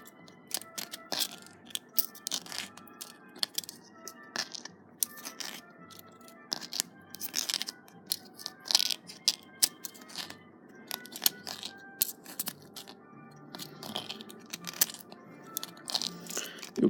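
A Westclox Baby Ben alarm clock mainspring is wound by hand, giving a quiet series of small irregular metallic clicks and ratcheting crunches spread across the whole stretch, close and faint with no voices.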